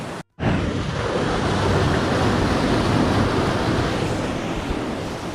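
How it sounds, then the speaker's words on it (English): Steady rushing water close by from a small waterfall in Glencoe, Scotland, a continuous broadband roar with no voices. "Yep, so there's a little waterfall to chill by."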